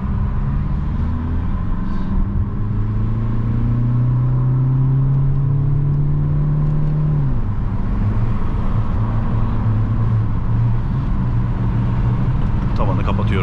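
A 2020 Peugeot 5008 with a 130HP engine and automatic gearbox accelerating after a downshift, a steady engine drone whose pitch climbs and then drops at the gear change, with road rumble underneath and a voice talking over it.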